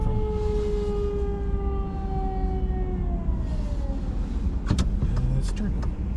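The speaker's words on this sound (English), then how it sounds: "Where's the fire truck? Is it coming?" A fire truck siren wails in a steady, falling tone inside city traffic in Minot, North Dakota, heard from a nearby car with road rumble and brief sharp noises toward the end.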